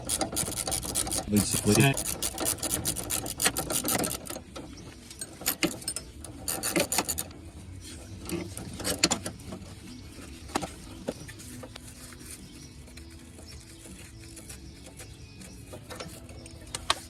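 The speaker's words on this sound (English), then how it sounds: "get a ratchet wrench on here. We're just going to loosen this up a little quicker." A ratchet wrench loosens a front sway bar link on a 2009 Ford Escape: rapid, loud metallic ratcheting clicks up close at first, then quieter intermittent clicks and scraping from the suspension work.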